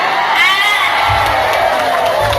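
A loud crowd at a comic stage show cheers, whoops and shouts continuously, a dense close roar with no clear pauses.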